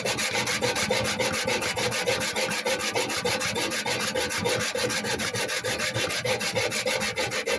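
A steady, rapid rasping of scrubbing on a rusty, dirty microwave, rhythmic back-and-forth strokes repeating close and loud for several seconds with no talking.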